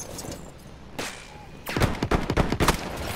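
Video game gunfire in Battlefield 1 starts as scattered distant shots, then breaks into a loud close run of rapid, sharp reports over the last half of the clip, with no talking.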